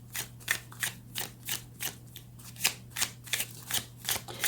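Tarot cards are shuffled close up in a steady run of soft riffling bursts, about a dozen quick repeated slaps of card against card over a faint low hum, with no voices.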